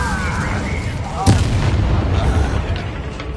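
Incendio fire spell cast in Hogwarts Legacy, a sharp fiery burst near the middle over a dense rumbling battle backdrop of game effects, loud and close, with a voice talking faintly.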